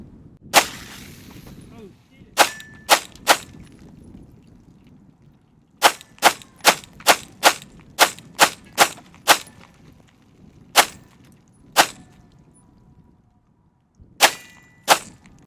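Gen 3 Glock 19 pistol firing 115 grain Blazer brass ammunition outdoors, about a dozen sharp cracks coming singly and in quick strings, with wind rumbling underneath.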